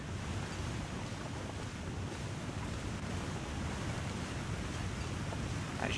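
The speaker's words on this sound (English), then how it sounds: "Sounds like we've got a waterfall" Steady, dense rushing water roars without pause as a waterfall in the snowy survival game The Long Dark, a broad wash of noise with a windy edge, fairly close and constant, with no talking over it.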